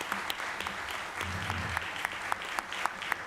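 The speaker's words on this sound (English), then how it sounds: "A big round of applause." Applause fills the room at the close of a press conference for the film They Shot the Piano Player, a steady wash of many hands clapping with sharper individual claps standing out, fairly faint and at a distance.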